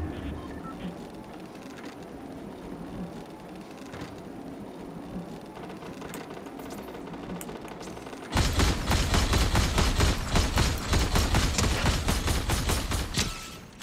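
Video game gunfire breaks into a dense, loud burst of rapid shots in the second half, following a quieter stretch of scattered game sounds and mechanical clatter.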